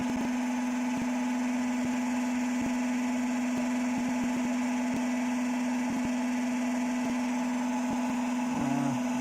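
A drum spinning at about 1200 RPM on a coil canopy rig gives a steady, constant motor hum with faint regular ticks repeating throughout.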